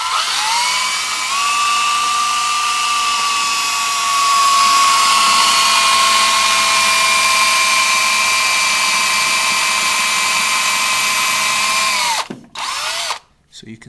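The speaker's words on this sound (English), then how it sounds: "We get the drill. I've got it nice and flush at the front. I've got my drill nice and level." A power drill whines steadily at high speed for about twelve seconds, drilling a pilot hole through a shelf, pitch shifting slightly as it bites, then stops abruptly with a few clunks.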